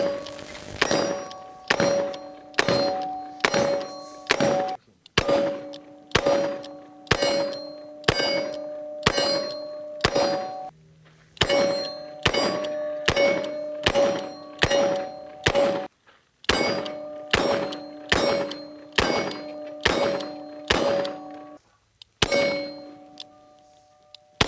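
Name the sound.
Colt Python revolver shooting .38 Special rounds at steel targets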